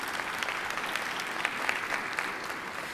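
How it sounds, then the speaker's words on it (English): Steady, dense audience applause fills a national town hall meeting, with many hands clapping at once throughout. "So give them another round of applause."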